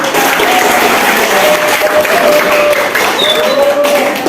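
A classroom of students claps together during an accounting lesson, a loud, dense burst of applause that holds steady for several seconds, with faint whistle-like tones and chatter mixed in.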